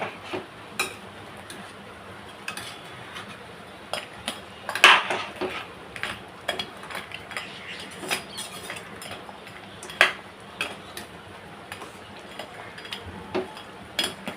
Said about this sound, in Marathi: मीठ टाकते आणि परत एकदम मिक्स करून घेऊ